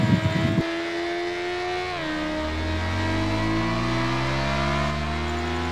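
A motorcycle engine in the Traffic Rider mobile game drones steadily, then its pitch climbs smoothly as it accelerates through the gears, loud and continuous with no talking.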